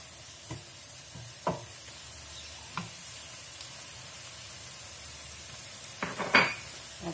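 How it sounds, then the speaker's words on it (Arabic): Ingredients for a seafood paella sauté quietly in a pan, a faint steady sizzle broken by a few sharp scrapes and clinks of a utensil against the metal, with no talking. "انا غنخلي هادشي يتشحر"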